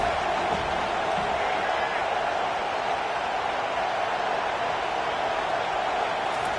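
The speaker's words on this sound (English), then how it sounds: "Decibels rising as the crowd gets behind this defense on third down" A stadium crowd at a football game on third down roars as one steady, dense wall of noise, loud and unbroken throughout with no distinct peaks.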